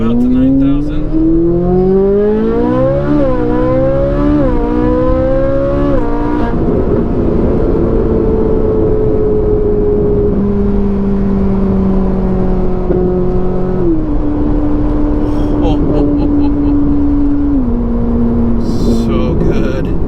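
A Ferrari 488 engine revs up and down in several sharp climbing bursts, then holds a long, loud high-rpm drone that steps lower in pitch, filling the whole stretch up close.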